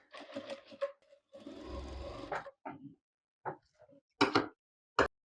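A sewing machine runs in short bursts, stitching lace onto the sleeve of a kameez: a few quick runs, one longer steady whir, then brief clicks and taps between pauses, close and fairly quiet.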